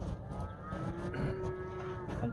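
Cattle on a farm, waiting to be given hay, with a long, drawn-out moo rising over a busy background of rustling and other animal noise, moderately close.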